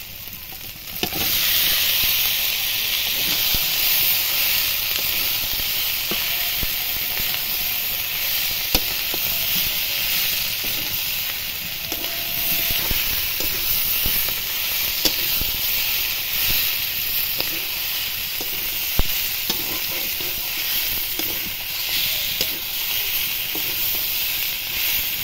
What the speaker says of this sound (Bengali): এবার আগে থেকে ম্যারিনেট করা মাংসটা দিয়ে দেব